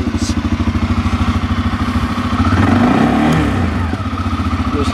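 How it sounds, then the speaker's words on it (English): A 2021 CFMoto CForce 600 Touring two-up ATV idles close by, with a steady, even engine pulse that swells slightly for a moment before settling back. "it cranks right up, idles beautifully, no rattling, no funny noises, no nothing at all"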